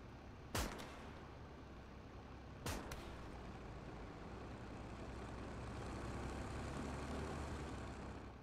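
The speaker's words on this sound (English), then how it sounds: "Uh-oh, I hear a tank." Low, steady tank engine rumble in the WWII game Gates of Hell, a broad droning noise that grows slightly louder toward the end, punctuated by two sharp distant gunshot or artillery cracks early on.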